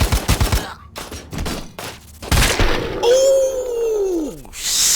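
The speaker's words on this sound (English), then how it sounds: "We got the machine gun, baby. Let's let it go." Rapid, loud machine gun fire in the video game Robocop Rogue City, heavy bursts with crashing impacts, then a descending whoosh and shimmering effects.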